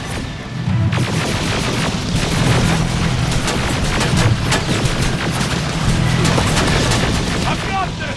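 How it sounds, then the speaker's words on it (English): Gunfire in the video game Terminator: Resistance, sustained rapid automatic shots and thumping booms forming a dense continuous battle din, loud and unbroken throughout with no voices clearly standing out. "Keep firing!"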